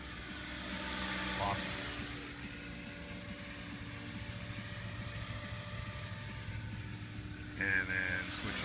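A small remote-controlled helicopter flies controlled circles, its rotor buzz steady and moderately distant, rising and fading slightly as it passes, with people talking over it.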